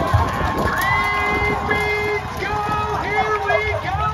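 A large roadside crowd cheers and shouts continuously at a World Cup bike race, with whistles and voices overlapping in a busy outdoor din.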